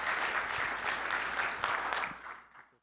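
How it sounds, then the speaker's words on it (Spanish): An audience at a talk by a doctor on herbal medicines applauds in a steady wash of clapping that tapers off and ends abruptly. "Un aplauso para el doctor."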